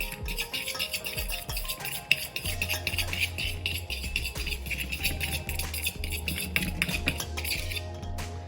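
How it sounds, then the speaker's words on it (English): A fork whisks dry cupcake ingredients in a bowl, giving a continuous run of light scraping and clinking taps against the sides, close and steady with no talking. "we're just gonna whisk it out with a fork"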